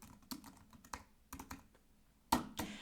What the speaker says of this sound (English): So, I would start typing and answering the prompt